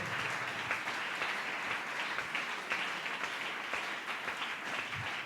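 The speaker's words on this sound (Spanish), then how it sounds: "Dele fuerte ese aplauso al Señor" A church congregation applauds during a prayer service, a dense, steady wash of many hands clapping at a moderate distance, with no break.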